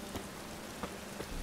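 Steady rain from The Witcher 3: Wild Hunt patters on surfaces in a continuous soft hiss, with a few brief louder taps standing out and no voices.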